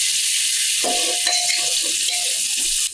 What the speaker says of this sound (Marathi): कांद्याला लाल होईपर्यंत परतून घ्यायचं